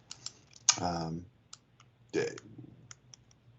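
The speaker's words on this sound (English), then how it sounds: "I was just typing into the chat." Sparse, faint computer-keyboard key clicks during an online meeting, a few isolated taps mixed with brief vocal sounds in a quiet room.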